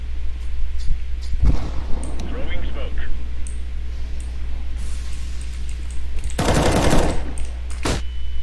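Rapid bursts of automatic gunfire in a first-person shooter game, a short burst early then a louder, dense volley near the end, with voices talking over the game audio.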